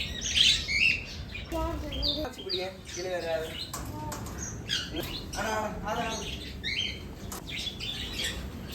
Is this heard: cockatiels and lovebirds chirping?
yes